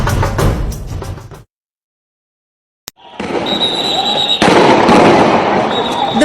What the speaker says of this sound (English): Volleys of gunfire echo across the city as police take on thousands of protesters